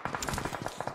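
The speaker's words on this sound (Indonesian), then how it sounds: "Tapi suara tembakan didengarkan oleh victim." Gunfire in the battle royale game PUBG on the Sanhok map: a rapid burst of about nine sharp shots in quick succession, moderately loud, with no voices.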